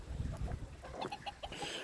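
A Pekin bantam rooster and hen cluck in short, close bursts from a farmyard shelter, with a few quick sharp clucks under faint background noise.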